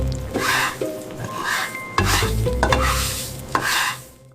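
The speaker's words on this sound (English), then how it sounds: "cooked slowly over medium-low heat for 30 to 50 minutes, become perfectly caramelized onions." Onions, cooked slowly over medium-low heat until caramelized, sizzle loudly in a pan as a utensil stirs and scrapes through them, with clattering strokes over a steady frying hiss.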